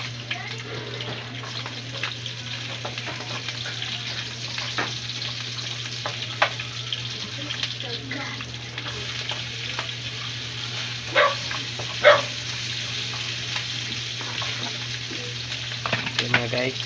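Garlic and onion fry in a pan with a steady, continuous sizzle that holds close and even throughout, broken by occasional sharper crackles and faint clinks of stirring.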